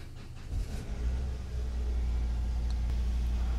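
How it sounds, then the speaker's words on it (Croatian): A car engine cranks and catches near the microphone, settling into a steady low idle rumble with no talking, while a battery tester stays clipped to the battery for a charging-system check. "uđite u svoj auto i pokrenite ga"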